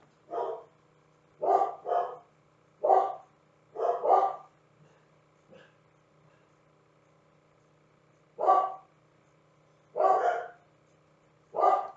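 Dogs barking in repeated bursts of two or three close barks, fairly near and loud, with a faint steady hum beneath and pauses between the volleys.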